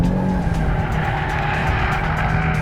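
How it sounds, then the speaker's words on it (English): An Audi RS3 with a torque-splitting rear differential drifts hard, its engine roaring steadily while the tires skid and squeal continuously, loud and close throughout. "which means you get to do drifts like that in an Audi RS3"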